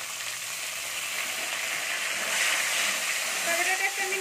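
Chopped tomato pieces dropped into hot oil that already holds fried cumin seeds give a steady, moderately loud sizzle that swells slightly partway through and continues alone without talk.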